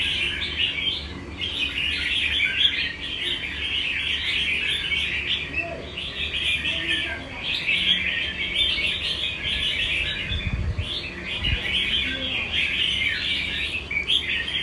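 A wild-caught magpie-robin kept in a square cage sings a steady run of bright chirps and warbles, close and continuous throughout, with a few low thumps near the end.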